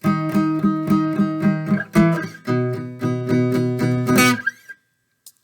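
Guitar strummed in an even eighth-note rhythm, chords ringing out bright and close, ending with a final strum and a short fade to silence.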